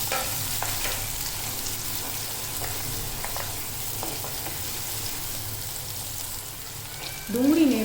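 Chopped white parts of onion sizzle steadily in hot oil with cumin, fenugreek seeds and asafoetida, with faint stirring scrapes throughout and a louder stir near the end, for a traditional Kathiyawadi brinjal oro.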